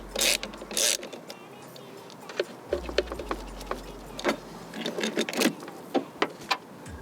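Steering wheel bolt on a 2015–2023 Ford Mustang being loosened with a ratchet, giving bursts of quick metallic clicking and turning, close and fairly loud, with short pauses between pulls.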